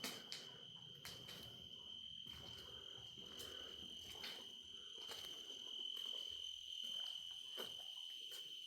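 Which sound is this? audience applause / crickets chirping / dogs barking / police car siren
crickets chirping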